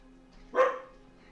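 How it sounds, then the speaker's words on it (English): A dog named Ray barks once indoors, a single short moderately close bark in a quiet room with a faint background hum. "Ray barks like she didn't know him"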